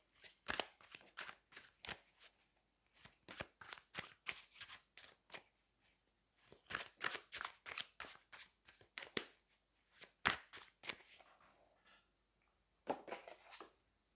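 Tarot cards are shuffled in quick, soft riffling bursts, close and fairly quiet, with short gaps between handfuls and a final flurry near the end. No voices are heard.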